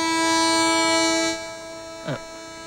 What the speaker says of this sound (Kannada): ಟ್ರೈನ್ ಹೊರಡ್ತಾ ಇದೆ.